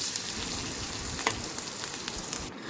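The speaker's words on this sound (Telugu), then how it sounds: "మంచి గోల్డెన్ ఫ్రై చేసేటప్పుడు కొంచెం కరివేపాకు వేసి అన్నీ కలిసేలా కలుపుకొని ఫ్రై చేసుకుంటున్నాను" Onion, green chilli and curry leaves fry in a pan, giving a steady, close sizzle with soft crackles and a brief stir near the middle.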